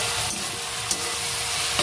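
Chili chicken sizzling and frying in a pan in a home kitchen, a steady loud crackle with a few brief stirring knocks, no voices.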